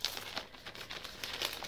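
Crinkling of a plastic zip bag holding a chocolate-colored cotton-elastane t-shirt as it is handled, with a few sharper rustles at the start and near the end, close and fairly quiet.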